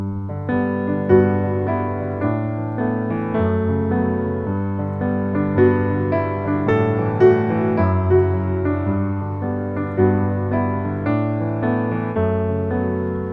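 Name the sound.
piano playing a song passage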